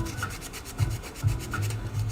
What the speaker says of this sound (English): this right here, sanding up the primer, this is really going to just finish it off